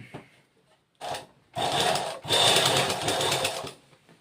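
A sewing machine stitches a folded half-inch hem in short bursts, a brief start followed by longer steady runs of fast, close mechanical whirring, with quiet pauses between.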